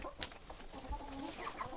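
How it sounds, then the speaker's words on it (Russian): A flock of about thirty laying hens clucking softly while pecking at homemade feed, faint scattered low clucks and murmurs close by. "вот курочки мои едят"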